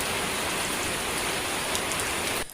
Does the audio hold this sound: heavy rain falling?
yes